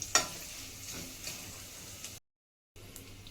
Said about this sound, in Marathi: तर आपलं जिरं, कढीपत्ता आणि मिरची फ्राय झालेली आहे